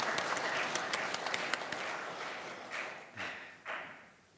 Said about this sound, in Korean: 우리 박수로 축복하며